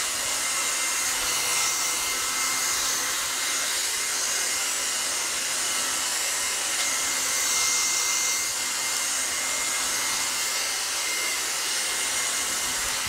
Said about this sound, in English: you can use just hair dryer